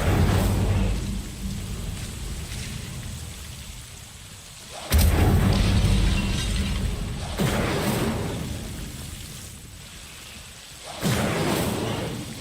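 Hogwarts Legacy's Incendio fire spell cast three times, each a sudden loud whooshing burst of flame that slowly fades before the next, with no talk between the blasts.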